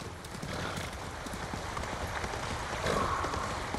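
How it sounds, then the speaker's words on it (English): Horse in the video game Ghost of Tsushima, with steady clip-clop hoofbeats of a gallop running throughout and a brief whinny near the end, over a continuous game ambience. "Is there another horse? Oh, yes, they're horses. Whoa, whoa, whoa. Slow down, Kage."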